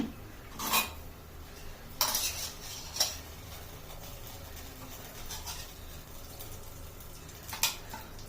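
A metal spoon scoops ghee into a pan on a gas stove, giving a few scattered metallic clinks and scrapes spaced several seconds apart over a quiet kitchen background.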